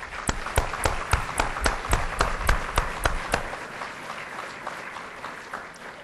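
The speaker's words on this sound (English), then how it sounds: "if you could join me in a round of applause for the faculty." An audience at an Army-Baylor MHA/MBA ceremony applauds the faculty, with rhythmic, fairly close clapping that begins strong, then thins out and fades over about six seconds.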